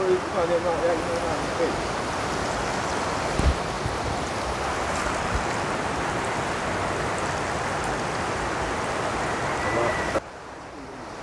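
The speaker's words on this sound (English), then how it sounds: "Get the rice wash a second time." Rice being washed in a pot of water in a home kitchen for Jamaican rice and peas, a steady sloshing, swishing rush of water that continues unbroken for several seconds before stopping abruptly.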